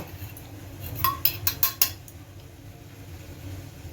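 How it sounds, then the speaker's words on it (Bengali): A quick series of five metallic clinks and knocks as a frying pan is handled before adding oil, over a faint steady background hum. "এবার আমি কড়াতে ফ্রাই প্যানে তেল দেব"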